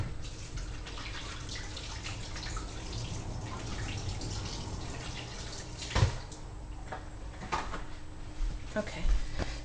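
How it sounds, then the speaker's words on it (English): Hands being washed under a running kitchen tap while preparing a pernil pork roast, a steady soft water stream with faint drips and a brief clunk midway, fairly quiet. "I'm gonna wash my hands because I don't want to contaminate my jars."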